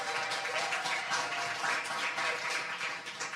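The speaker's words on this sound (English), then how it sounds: "clap it up, clap it up" Steady applause from a crowd at a town hall meeting fills the space, a dense wash of clapping that is fairly distant and continues evenly for a few seconds.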